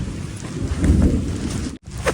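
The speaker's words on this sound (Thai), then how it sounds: "ฝนตกไม่เป็นไรไม่เกี่ยว" Rain pours outdoors in a bamboo grove with a dense, rumbling wash of drops that swells in the middle, then briefly cuts out before returning, with no voices heard.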